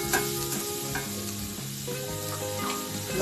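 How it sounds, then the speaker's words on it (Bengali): Grated coconut fries in a hot wok with a steady, close sizzle and occasional light stirring scrapes throughout. "নারিকেলটাকে আগে ভেজে নিব"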